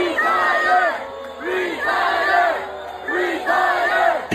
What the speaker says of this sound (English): the crowd starts catcalling him, telling him to retire